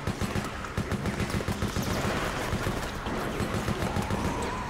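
Gunfire in Resident Evil Operation Raccoon City as enemies are shot, a rapid steady stream of automatic bursts over a dense background of game noise.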